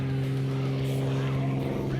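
Airshow aerobatic airplane with a 385-horsepower engine in a roughly 1,500-pound aircraft, hovering on its propeller; a steady, droning engine and propeller hum holds constant at a distance with no other sounds over it.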